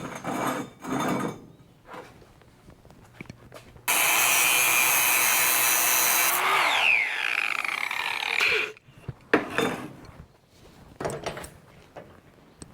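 A loud, harsh power cutting tool grinds through metal pins on a lifting boom attachment for several seconds, preceded and followed by scraping and clanking of tools.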